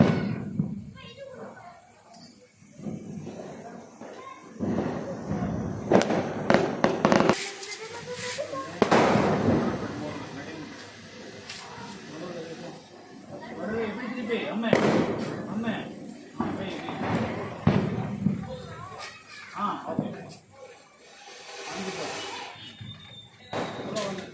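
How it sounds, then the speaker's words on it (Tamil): Crackling peacock firecrackers during Deepavali, with repeated pops and bursts over about twenty seconds, while people talk and exclaim nearby. "பீகாக் பீகாக் பட்டாசு"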